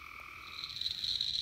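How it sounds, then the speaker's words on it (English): A steady chorus of trilling gray tree frog calls fills the night in South Carolina, dense and continuous, with no voices. "a lot of amphibians are out moving along, as you can hear behind us with the gray tree frogs."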